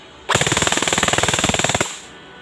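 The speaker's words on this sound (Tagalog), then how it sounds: "Ngayon, switch ko siya sa full auto." A P90 airsoft toy gun fires on full auto in one loud, rapid burst of about a second and a half, with evenly spaced shots before it stops abruptly.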